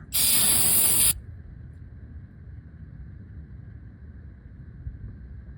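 A single loud, hissing blast of cleaner sprayed from a can onto a 2008 Impala's transmission pan lasts about a second, followed by a low steady hum and background rumble.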